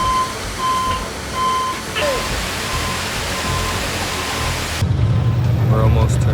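A vehicle's reversing beeper chirps in steady repeated tones through heavy rain noise on a road between landslides near Baños, Ecuador, while the vehicle turns around; the rushing hiss grows louder toward the end.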